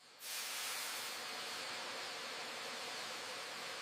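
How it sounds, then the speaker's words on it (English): Steam hissing from distillation equipment in a perfume factory, a broad hiss that starts abruptly and stays loud and steady to the end. "Steam distillation separates essential oils using controlled heat."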